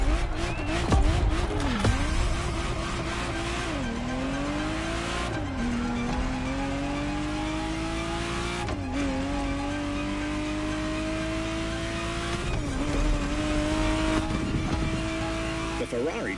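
A Ferrari Testarossa driven in The Crew Motorfest racing game, its engine climbing in pitch through each gear, then dropping at every shift, in a continuous run of several upshifts at moderate volume.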